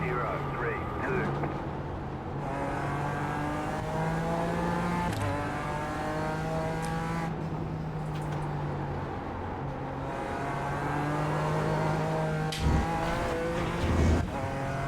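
A Toyota GR86 on the Mugello circuit, its engine revving and climbing steadily through the gears up close, with brief drops between shifts and a voice talking over the engine noise.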